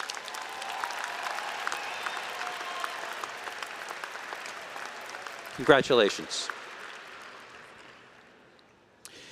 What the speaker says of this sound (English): So let's all give these graduates a round of applause.